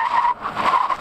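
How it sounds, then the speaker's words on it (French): A Nissan Ariya electric car, weighing about 2.3 tonnes, braking hard: a loud, sustained tyre squeal that briefly dips and then resumes, heard alone with no talking. "Je vais vous faire une petite démonstration du freinage."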